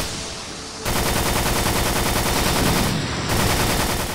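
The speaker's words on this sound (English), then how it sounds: "The machine gun is your second bet, if you can aim it properly." Sustained machine gun fire in the PS2 survival horror game Extermination, a loud continuous rapid burst starting after a brief moment and running to the end, with a short louder stretch near the close.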